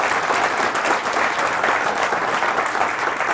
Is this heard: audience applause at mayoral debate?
yes